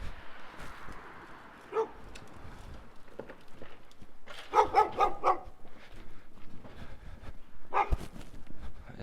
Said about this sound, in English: It's that dog again.